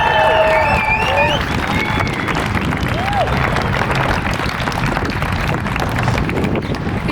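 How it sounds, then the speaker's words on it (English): Crowd applause and cheering for high school students at an outdoor Pride flag ceremony in Framingham, steady clapping throughout with a few brief whistles and voices mixed into the noisy crowd. "Can we get one more round of applause for our high school students and all of our students?"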